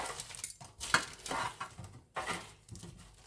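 Grilled cauliflower, cooked in peanut oil, is stirred in a pan. A utensil scrapes and clinks against the pan in a few quick, uneven strokes. It is close but faint, with no talking.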